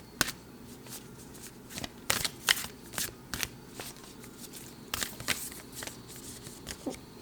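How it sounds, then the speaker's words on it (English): Crystal oracle cards being shuffled by hand, a run of crisp riffling and slapping bursts in irregular clusters, close and fairly quiet, with no talking. "So I'm going to pull crystal oracle cards."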